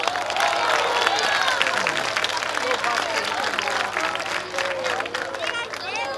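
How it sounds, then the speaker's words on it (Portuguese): Church crowd applauding at open-air preaching in a public square, a dense wash of clapping mixed with crowd chatter and cheering voices. "Pode aplaudir mais forte."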